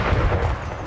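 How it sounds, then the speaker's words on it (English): Cannon fire in a strategy video game set in Dutch Guyana, heard as a dense run of low, rumbling booms and blasts that fill the whole moment with loud, continuous battle noise. "Ooh, and the cannons reach."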